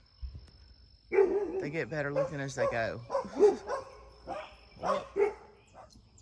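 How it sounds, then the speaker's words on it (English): Dogs bark and yip in the background while someone speaks close up over them. "Excuse the dogs barking."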